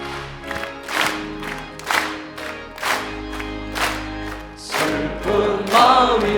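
A church congregation at a special dawn service claps in steady rhythm, roughly once a second, while singing a hymn together, the claps sharp and loud over the voices and organ-like sustain.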